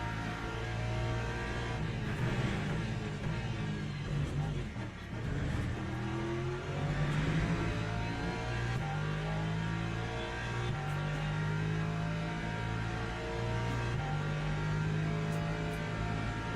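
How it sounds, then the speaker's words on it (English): LMP3 race car in Le Mans Ultimate, a steady droning engine note with shifting pitch as cars pass and accelerate, loud and continuous with no talk. "LMP3 coming through here."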